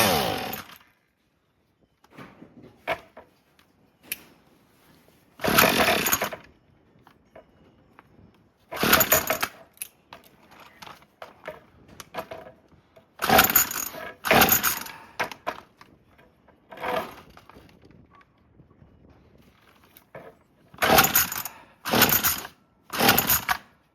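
Several separate pulls on a Craftsman weedwhacker's starter cord, each a short loud ratcheting burst, with quieter gaps between attempts and no running engine.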